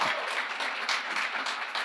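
An audience at a tech leadership panel gives a dense, even round of applause, a continuous wash of many clapping hands heard from a distance at moderate volume.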